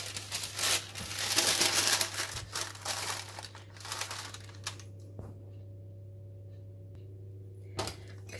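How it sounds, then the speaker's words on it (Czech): Baking paper crinkles and rustles as it is laid over a dish of meat, loud busy crackling at first that tapers off into quiet with a few soft handling sounds, a steady low hum underneath. "A přikryjeme si to pečícím papírem."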